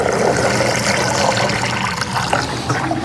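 Water pours and splashes steadily onto garden soil beside alfalfa sprouts, a loud, continuous rushing wash with no pauses.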